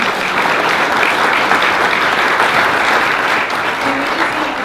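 A large audience claps steadily through a school board meeting, a dense, sustained wash of applause at close range with no lull.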